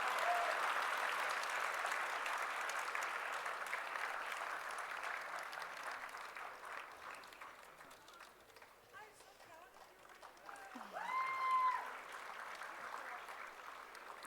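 Audience clapping at a graduation ceremony, a broad wash of applause from a crowd that gradually thins and fades, with a voice briefly heard near the end.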